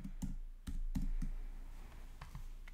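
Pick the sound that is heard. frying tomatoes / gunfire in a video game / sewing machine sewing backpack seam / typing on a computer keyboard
typing on a computer keyboard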